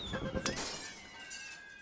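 Glass shatters in the video game What the Car?, a brief bright crash near the start that trails off into a faint tinkling.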